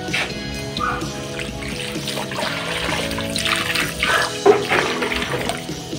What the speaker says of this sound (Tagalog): And then, of course, we put water.